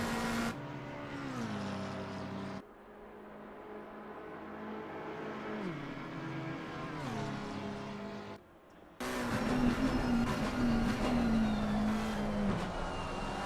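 A GT race car engine in Assetto Corsa Competizione at Bathurst, revving high and dropping through quick upshifts, with a short lift and gap before roaring back up to full power, loud and steady in the cockpit.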